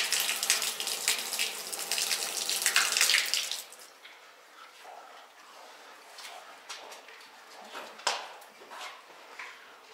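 Water from a tap on a galvanized tank runs loudly for several seconds, then stops, leaving quieter scattered knocks and rustles.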